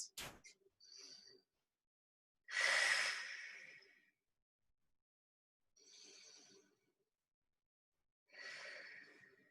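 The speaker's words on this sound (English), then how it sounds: "2 deep breaths." Slow, deep breaths taken while resting in child's pose during a fitness class: several soft, airy inhales and exhales separated by silence, close and quiet.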